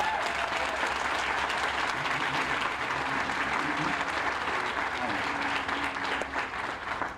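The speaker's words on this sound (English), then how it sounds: "Let's give them a round of applause." Loud, sustained applause from an audience at an allied health center event, a thick wash of many hands clapping that holds steady throughout, with faint murmuring voices beneath it.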